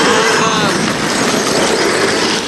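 A 12S LiPo electric motor on a Losi 5T 1/5 scale 4x4 race truck whines loudly and steadily up close, a dense high-pitched drone without pause or speech.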